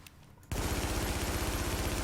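An AK47 firing in The Division: a sudden, loud, sustained burst of rapid automatic fire with an even, fast rhythm that continues without a break to the end.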